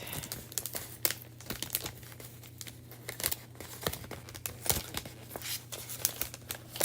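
Sealed plastic package being opened and torn by hand before cutting chalk craft stencils, loud close crinkling and crumpling with sharp tearing bursts throughout.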